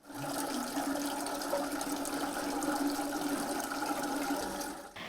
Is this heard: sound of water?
yes